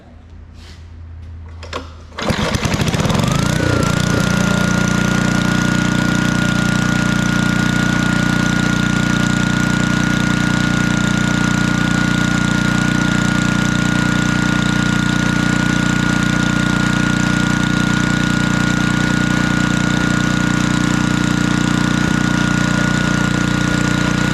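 A vintage 1964 Wards Power Kraft generator with a Briggs & Stratton engine starts after a few pull-cord rattles, then runs loud and steady with a constant mechanical drone and a faint high whine for the rest of the stretch.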